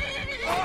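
A horse in the video game Skyrim gives a short whinny with a wavering, tonal neigh, brief and fairly close, no talk over it.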